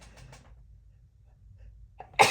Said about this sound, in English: Oh, I'm gonna sneeze, hold on.